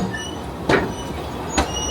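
A Talyllyn Railway train runs along the rails past Quarry Siding, giving a steady rolling rumble with two sharp, clacking rail-joint knocks spaced about a second apart.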